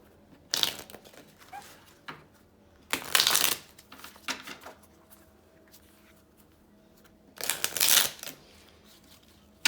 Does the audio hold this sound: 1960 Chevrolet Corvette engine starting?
no